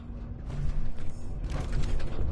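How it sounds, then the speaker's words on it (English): A jammed door lock is picked in Fallout 4: close, fiddly mechanical clicks and scraping creaks come in two bursts, with no voices. "This door's on the fritz. Let me see if I can get it open."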